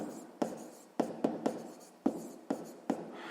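A pen writes on paper during a sixth-grade maths exercise, making a series of short, scratchy strokes with quick taps in an irregular rhythm, close and clear with no talking.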